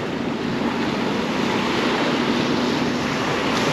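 Steady wind buffets the microphone outdoors under an overcast sky, a constant loud rushing roar with no voices over it.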